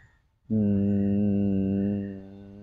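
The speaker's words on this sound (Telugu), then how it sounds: "జస్ట్ మీరు నోరు మూసేసుకొని హమ్మింగ్ వాయిస్" A steady closed-mouth hum of bhramari pranayama breathing, the bee-like yoga exhale, rising suddenly after a quiet moment and holding a rich, even drone for about two seconds before easing slightly, close and loud with no talk.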